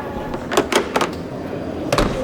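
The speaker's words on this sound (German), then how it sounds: "damit die ganze Tür dort in die Dichtung geht, wenn ich den Riegel hochziehe" A camper van door built from Swiss stone pine on a Mercedes base is pressed against its compression seal and latched, giving several sharp knocks and a final thud, close and loud.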